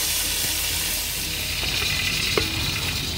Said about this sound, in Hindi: इसको अच्छी तरह हमने भूनना है चिकन को